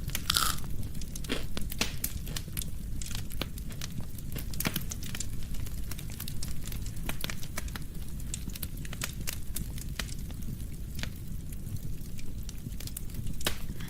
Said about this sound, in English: Maybe, if you don't mind the loud crunching noises.